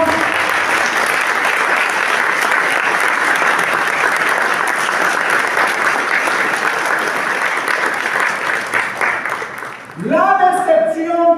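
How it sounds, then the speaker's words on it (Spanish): A church congregation at a Sunday service applauds, dense, steady clapping from a large crowd that holds for about ten seconds before fading as a voice starts speaking. "¡Denle ese aplauso!"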